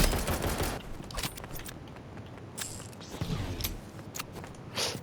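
Sniper gunfire in the video game Rivals, a series of sharp shots and mechanical clicks over a busy, noisy game soundscape.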